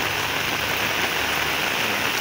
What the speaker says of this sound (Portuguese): Tá aparecendo uma zoadinha aí da chuva aí no guarda-chuva